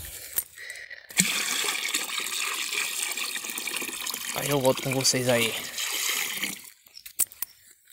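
Water pours steadily to refill a container in a poultry feeding area, a broad continuous rush lasting most of the stretch, with someone speaking briefly over it near the end.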